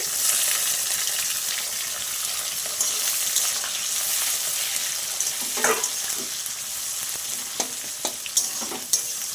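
Chopped onions sizzle and crackle in hot oil in a pan, with occasional scraping knocks from stirring breaking through the steady hiss.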